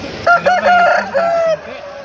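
A rooster at a poultry market crows loudly and close, one strong drawn-out call with a break partway through, followed by softer clucking.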